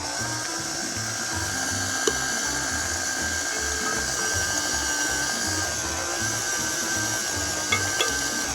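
Stand mixer running on low speed, about setting 2, beating flour into butter for Christmas cookie dough: a steady, close mechanical whir with a rhythmic low churning pulse from the gears, with no talking.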